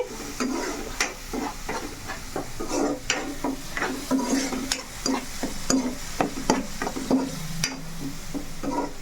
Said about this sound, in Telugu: ఉల్లిపాయ పేస్ట్ అనేది బాగా మనం ఎర్రగా వేసుకోవాలి